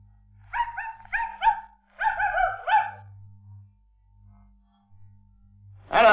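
A dog barks in two quick clusters of yaps at a moderate distance, each burst of three or four sharp barks, followed by quiet and then a sudden loud noise at the very end.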